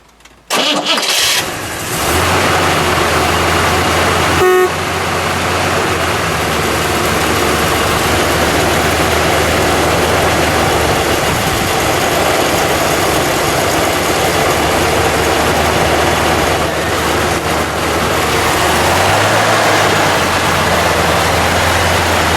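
A 1969 Chevrolet Impala SS with a 427 engine cranks briefly, fires up with a loud catch, then settles into a steady, rumbling idle close by, with a short blip partway through.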